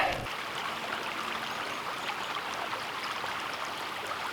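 A creek in upstate New York runs steadily with snowmelt, a continuous close burble and trickle of water at moderate volume, no voices.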